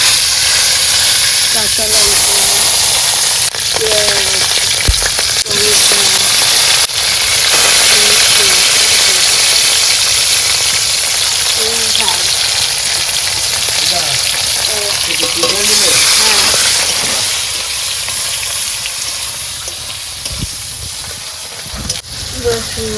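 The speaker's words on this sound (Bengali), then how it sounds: "ফোড়ন দিয়ে দিই তেজপাতা" Bay leaves hit hot oil for tempering, after fried cauliflower, in a kitchen cooking fish curry. There is loud, continuous sizzling and hissing with occasional stirring, and a voice speaks intermittently over it.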